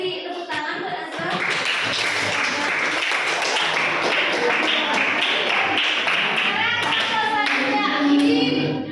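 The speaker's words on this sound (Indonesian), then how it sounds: "Sudah diberi tepuk tangan buat Azwa." Sustained clapping from a school classroom audience during a teaching-practice lesson, a dense patter that swells after the first second and continues steadily to the end, with faint voices mixed in.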